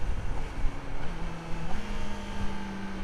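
A 2024 Kawasaki Ninja ZX-4RR motorcycle engine hums steadily while riding in sixth gear. Wind rush nearly buries the faint engine tone.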